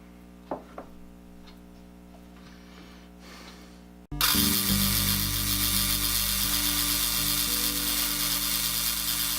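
A lathe cuts into a band saw axle: a quiet shop hum with a few faint ticks, then the cut starts abruptly and holds as a loud, steady, broadband grinding whir over a low drone that lasts to the end.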